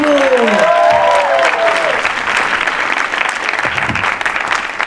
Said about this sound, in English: Massive round of applause to Valenanda.